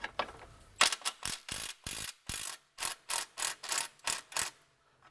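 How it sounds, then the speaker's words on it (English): A ratchet wrench clicks in quick bursts while loosening subframe bolts on a BMW E90 M3, a close series of sharp metallic ratcheting strokes with short pauses between them. "for these forward bolts, I'm just going to loosen them and allow the subframe to drop down on its own."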